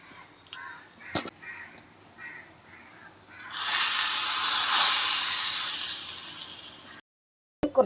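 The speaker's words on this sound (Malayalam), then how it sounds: "കാക്ക ശല്യം വളരെ കൂടുതലായിട്ടുണ്ട്, അതാണ് ഇടയ്ക്കിടയ്ക്ക് കാക്ക കരയുന്ന ഒച്ച കേൾക്കുന്നത്," Crows caw several times outdoors near a kitchen where rasam is being cooked, followed by a long, loud, steady hiss and a brief clatter at the end.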